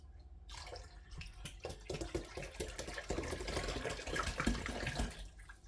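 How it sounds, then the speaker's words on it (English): Water poured from one jug into another, a steady splashing, gurgling stream lasting several seconds after a quiet start, close and moderately loud, with drips at the end. "I just took this jug of water and I divided it into this jug 4 times"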